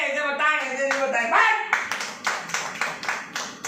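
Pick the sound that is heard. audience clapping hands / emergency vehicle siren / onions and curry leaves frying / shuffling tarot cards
audience clapping hands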